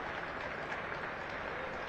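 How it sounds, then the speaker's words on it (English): A crowd at a schools' national football final applauds players being substituted off, a steady dense wash of clapping throughout with no talk. "applause for the players being withdrawn"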